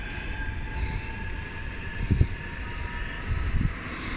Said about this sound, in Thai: เห็นรถไฟที่มันแล่นผ่านเมื่อกี้